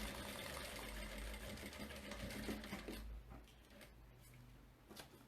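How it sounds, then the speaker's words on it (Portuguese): A sewing machine stitches a safety seam along a fabric edge, running steadily with a continuous whirring hum, then stopping partway through and leaving only a few quieter clicks and small handling sounds. "vou fazer uma costura de segurança nessa beiradinha"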